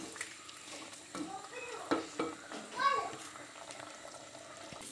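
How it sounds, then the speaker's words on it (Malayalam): Stirring of Malabar-style roasted-coconut chicken curry in a pot, soft scraping and clinking strokes with a faint sizzle underneath, close and fairly quiet, with a voice talking at times. "ഞാൻ നന്നായി ഒന്ന് ഇളക്കി കൊടുക്കുക, അടി പിടിക്കാതിരിക്കാൻ വേണ്ടിയിട്ട് ഇടയ്ക്കിടയ്ക്ക് ഒന്ന് എടുത്ത് തുറന്ന് ഇളക്കി കൊടുക്കുക"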